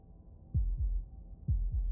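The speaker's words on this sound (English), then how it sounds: "That was the sound of a heartbeat" In the video game Slay the Princess, a heartbeat sounds as two low, muffled double thumps, lub-dub, lub-dub, close and alone over a faint background hum.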